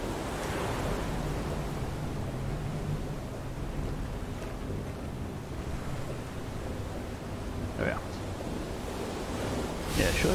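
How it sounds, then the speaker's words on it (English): Ocean waves and wind in the open-sea video game FAR: Changing Tides, a steady rushing wash of surf and breeze throughout, with faint brief sounds rising now and then. "There's wind out here with all this waves and so on."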